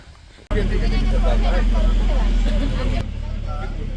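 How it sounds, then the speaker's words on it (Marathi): A safari bus engine at Nehru Zoological Park in Hyderabad rumbles to life and pulls away, a loud, steady low drone kicking in abruptly, with people talking over it. "म्हणजे आपली गाडी चालू झालेली आता इथून आपली सफारीची राईड चालू होते"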